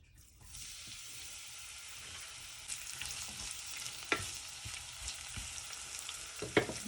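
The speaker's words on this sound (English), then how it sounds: "I'm just gonna put my onions in." Onions sizzling in hot oil for a Jamaican escovitch sauce, a steady bright hiss throughout with a few sharp pops and stirring clatters.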